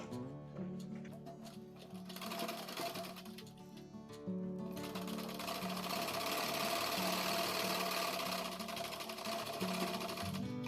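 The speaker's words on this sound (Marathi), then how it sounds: "झबल्याची दुसरी बाजू पण शिवून घेते मी." A sewing machine stitches the other side of a baby zabala garment, running in a rapid, steady mechanical chatter close by, briefly slowing and pausing before resuming at full speed for a long run.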